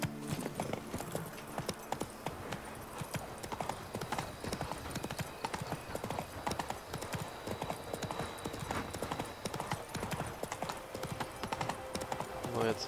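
A horse gallops in The Witcher 3, its hoofbeats drumming in a fast, continuous clip-clop rhythm that runs steadily throughout, close and even, with faint speech-like sounds and ambient game noise underneath.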